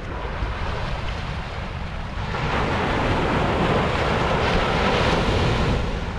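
Sea waves break on the beach at Puri in a steady, loud wash of surf, mixed with wind buffeting, and the roar swells as a wave comes in partway through.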